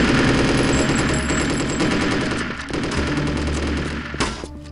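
Rapid automatic gunfire in the shooter Chaser: loud, dense bursts of shots run almost continuously, close up, and ease off briefly near the end.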